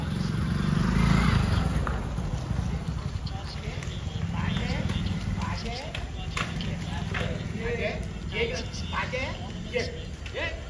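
Bullock hooves clop steadily on hard ground at a walking pace, mixed with voices talking and some background noise.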